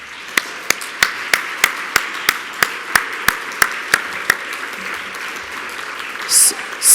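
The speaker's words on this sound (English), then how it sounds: "I would like all of you to join me in a round of" At the 20th Annual SAFSF Forum, crisp, evenly spaced claps ring out close and loud for about four seconds, then stop, leaving a faint murmur of room noise.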